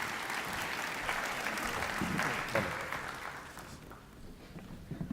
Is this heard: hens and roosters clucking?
no